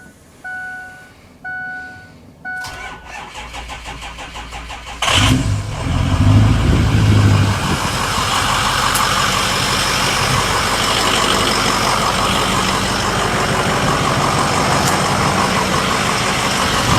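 A Ford 6.0 Powerstroke diesel truck engine, left sitting overnight, cranks briefly with a few hesitant turns, then catches with a loud roar and settles into a steady, close rumbling idle.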